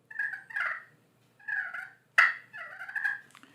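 A turkey hunter's hand call imitates a hen turkey, giving a series of close, loud clucks and rolling purrs in short bursts separated by brief pauses, with no talking.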